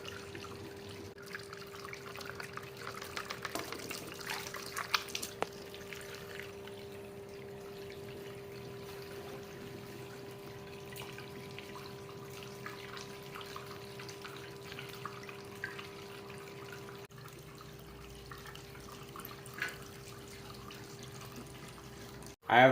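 Water trickling steadily through a Top Sluice box processing material for flour gold, a faint, continuous wash and drip over a low steady hum, with no talking.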